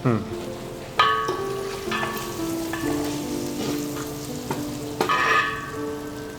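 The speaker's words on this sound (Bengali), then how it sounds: "এই আদা কুচিটা দিয়ে দিলাম" Chopped ginger hits browned onions in a hot pan for mango and pointed gourd nabaratna, bursting into a bright sizzle with stirring scrapes, a faint voice underneath.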